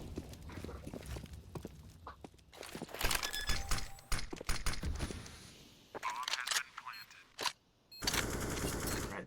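AK rifle fire in a Counter-Strike match on Dust2 pops in bursts among footsteps and other game effects, with a caster talking over much of the action.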